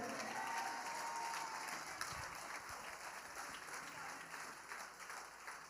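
A congregation at an evangelical church service applauds and cheers, a steady wash of many clapping hands mixed with crowd voices, heard somewhat distant and fairly quiet.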